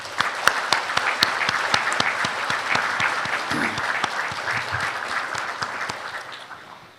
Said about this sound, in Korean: 이분들에게 따뜻한 박수 보내주시기 바랍니다